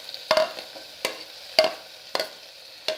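Beans, carrot and potato sauté in a pan with ginger-garlic paste, with a soft background sizzle broken by about half a dozen distinct scraping stir strokes at roughly half-second intervals, close and clear.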